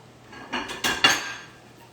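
A plate set over a pan and flipped with a quesadilla inside gives three short clattering knocks of ceramic against metal, close and fairly quiet.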